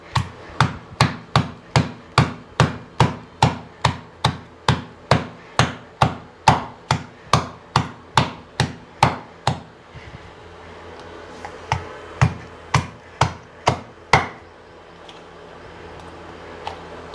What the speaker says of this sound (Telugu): ఎన్నెన్ని ముక్కలు వేసేస్తున్నా నలిగిపోతున్నాయి